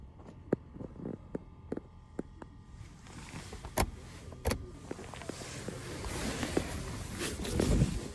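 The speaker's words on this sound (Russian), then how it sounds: "когда вы нажимаете, один раз нажали, у вас стекло полностью опустилось" A car's automatic power window runs all the way down on a single press: a few sharp clicks, then a steady electric motor whine that builds and holds close by, with no talk.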